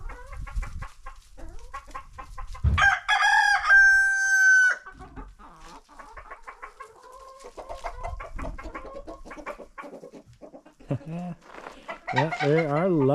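Chickens feeding on northern pike roe cluck busily close by, with one loud, drawn-out rooster crow early on and steady clucking and squawks throughout.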